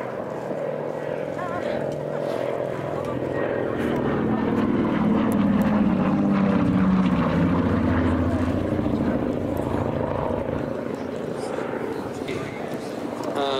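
Propeller aircraft flying past at an airshow, a steady loud engine drone that swells and peaks mid-pass then eases slightly, with a commentator talking over it throughout.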